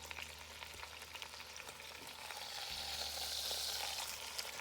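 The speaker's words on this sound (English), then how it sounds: "once it's seared, you're going to have to kind of let it brown really good there, and it'll seal in all the flavors." Chuck roast sears in a hot pan for a pot roast, giving a steady, close sizzle and crackle that swells slightly louder partway through, with no talk over it.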